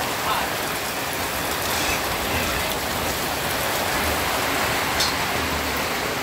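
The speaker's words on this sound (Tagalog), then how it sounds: "Super lakas ng ulan." Very heavy typhoon rain pours down steadily and loudly, a dense unbroken roar of water hitting surfaces throughout, with no letup in intensity.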